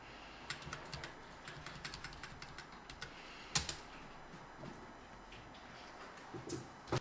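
Light typing on a computer keyboard in Photoshop: scattered, quiet keystrokes clicking at an uneven pace, with one sharper tap midway and a few more near the end.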